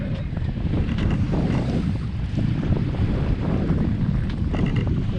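Strong wind buffets the microphone aboard a sailboat running on a double-reefed jib, a constant loud rush mixed with water noise and no talking.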